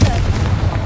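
Confringo spell blast in a Hogwarts wizarding video game, a loud, dense, rumbling explosion that fills the whole brief moment, with a voice faintly under it.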